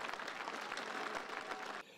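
A home cricket crowd applauds a wicket at a Gloucestershire v Hampshire one-day cup quarter-final. Dense, steady clapping and cheering fills the stand for nearly two seconds, then drops away abruptly.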